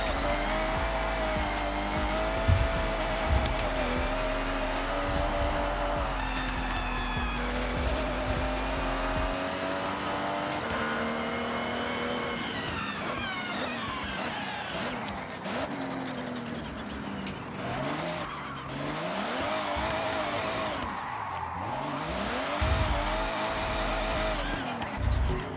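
A car engine bouncing off the rev limiter in Forza Horizon: a loud, high, buzzing engine whine that holds and wavers, with tire squeal and skidding mixed in throughout.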